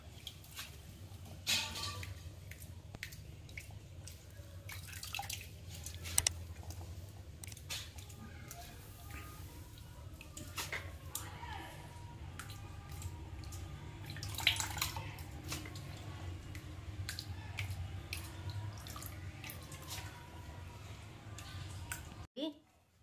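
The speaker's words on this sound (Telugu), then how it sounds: "ఇవి గాలిస్తున్నాను, రాళ్ళు ఇసుక అంతా వస్తుంది చూడు" Soaked sesame seeds are washed and sieved in water by hand to remove stones and sand, giving soft squishing, sloshing and dripping sounds close up, with faint background noise throughout.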